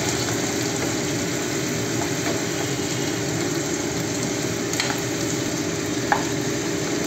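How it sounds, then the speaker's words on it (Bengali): Chicken simmers in hot water in a pan for a grilled chicken dish, producing a constant, even bubbling hiss at close range with no pauses. "সেদ্ধ হচ্ছে"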